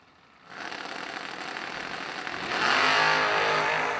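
Junior dragster engines at a New Year Nationals drag strip burst from quiet into a loud, steady high-pitched engine roar that swells further midway as the cars race off, with no voices over it.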